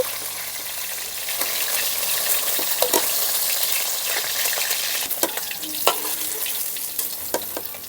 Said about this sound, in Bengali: মাছগুলোকে খুব সুন্দর করে কিন্তু ভেজে নিয়েছি এখন তুলে নিচ্ছি বাকি যে মাছগুলো আছে একইভাবে ভেজে নেব